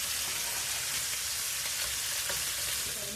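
Food frying in a pan over medium heat, a steady, even sizzle with fine crackling that holds close and constant throughout, with no talking.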